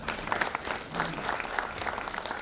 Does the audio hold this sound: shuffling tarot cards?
no